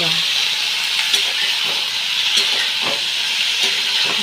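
Eggplant and potato pieces fry in a pan with onion and garlic, giving a steady close sizzle and hiss with soft scraping stirs every second or so.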